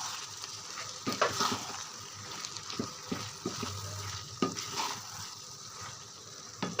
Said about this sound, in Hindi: दाल हमने ऐड कर दी मसाले के अंदर, इसको अच्छे से कर लेंगे मिक्स